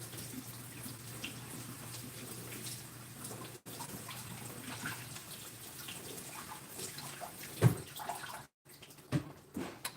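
Steady running tap water pours over vegetables being rinsed in a sink, a continuous close splashing rush with small clunks near the end.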